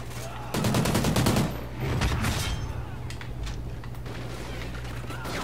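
Gunfire in Call of Duty: Ghosts, Subzero map: rapid bursts of shots and loud reports crowding the start, then scattered fainter in-game clatter and rumble.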